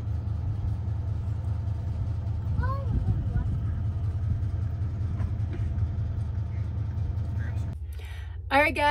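Converted school bus with a Horton fan clutch and new water pump, engine rumbling steadily up a mountain road with a low drone throughout, people talking over it, ending in a sudden shift to quieter, brighter noise.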